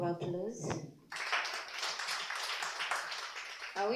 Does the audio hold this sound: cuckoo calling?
no